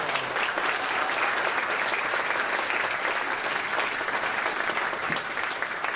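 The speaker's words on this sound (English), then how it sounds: "they all deserve a round of applause" Sustained audience applause at a gift announcement for children's health programs, a dense, even roar of many hands clapping throughout without a break.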